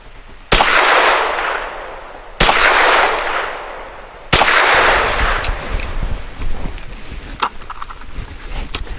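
Three loud, sharp pistol shots from a CZ P10C firing Honor Defense 100 grain frangible hollow points, spaced about two seconds apart, each ringing out with a long echoing decay, followed by faint clicks and handling noises.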